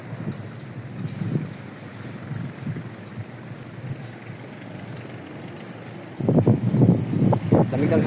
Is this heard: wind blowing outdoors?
yes